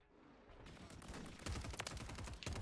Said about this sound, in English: So many explosions going on over here.